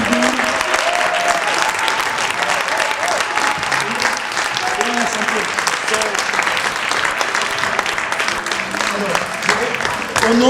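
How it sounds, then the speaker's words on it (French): Loud, sustained applause from an audience in the Brussels Parliament honoring the champion of an Orthografrique spelling contest, with scattered voices and cheers mixed into the steady clapping throughout. "Je veux qu'on applaudisse très fort pour la championne"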